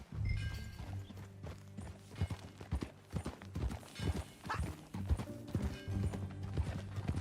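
Hooves clip-clop steadily on horseback in Red Dead Redemption 2, a rhythmic run of close, clear hoof strikes with a brief whinny, set over a sustained low musical drone throughout.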